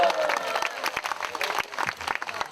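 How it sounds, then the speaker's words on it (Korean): Audience applause at an outdoor peace rally in Gwangju, a dense wash of clapping with a few whoops, steady and fairly near for a couple of seconds while a tonal hum or stray voice lingers briefly at the start. "우리 다시 한번 우리 청소년 희망 친구들한테 뜨거운 박수 부탁드립니다."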